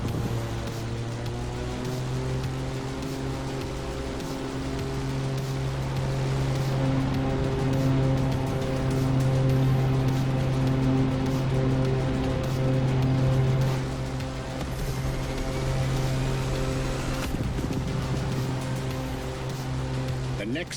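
A 21st-century Ferrari supercar driven in The Crew Motorfest on Maui, its engine drone holding steady and loud with shifting tonal layers throughout, a voice talking over it.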